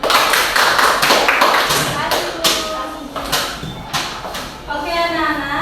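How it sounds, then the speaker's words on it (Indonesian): Students in a Buginese regional-language classroom clap together after a classmate's turn, a loose burst of overlapping claps with sharp taps scattered across the stretch, close and fairly loud, with voices talking through it. "Beri tepuk tangan dari teman Ta"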